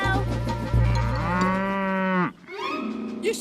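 A cow moos loudly and close by in a foggy countryside, one long drawn-out low call that falls away, followed by a shorter second call.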